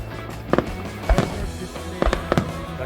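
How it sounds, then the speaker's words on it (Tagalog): Canada Day fireworks burst over Steinbach, Manitoba, a series of sharp booms and cracks at irregular intervals, some in quick pairs, heard from a distance over steady outdoor background. "nanonood tayo sa ng mga fireworks."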